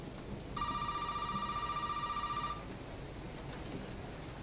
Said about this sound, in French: Oh putain, le téléphone, il sonne.